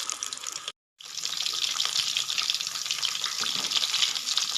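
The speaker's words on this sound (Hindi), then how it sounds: "बबल देख के आपको अंदाज़ा हो रहा है कितनी लो फ्लेम पे हम जो है इसको फ्राई कर रहे हैं।" Chicken pakora frying in oil on a low flame, a dense, steady crackling sizzle that runs close and continuous with one brief silent break near the start.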